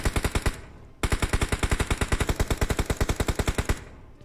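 Rapid automatic gunfire from a teammate in PUBG Mobile, a short burst, a brief pause, then a long sustained string of evenly spaced shots, loud and close.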